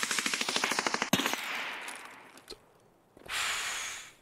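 Rapid automatic gunfire as an enemy empties a full magazine in Escape From Tarkov on Shoreline, a fast rattling burst of evenly spaced shots ending abruptly, followed by a couple of isolated cracks and a hiss.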